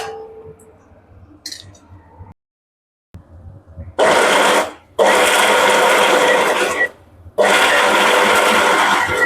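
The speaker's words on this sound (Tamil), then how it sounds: "இப்போ இதை ஆற வச்சு நம்ம மிக்சியில் அரைச்சிடலாம்." A mixer grinder blends cooked mutton for kola urundai in three loud, close bursts of harsh whirring with short pauses between them, after some quieter kitchen clatter.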